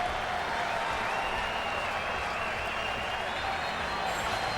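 Ballpark crowd cheering and applauding after a no-hitter at a Phillies home game, a dense, steady roar of many voices and clapping heard from a distance throughout.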